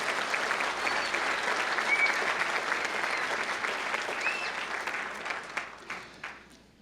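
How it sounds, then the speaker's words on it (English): Steady applause from a large crowd at a law school commencement ceremony, sustained and fairly far, thinning into scattered claps near the end. "let's give them all a round of applause as well"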